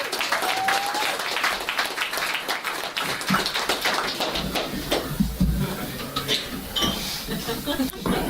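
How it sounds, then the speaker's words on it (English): An audience applauds at the K-FEST comedy festival during the Screaming Pope Prize, a dense, sustained clapping with glasses and cutlery clinking and some voices mixed in. "everybody was clapping"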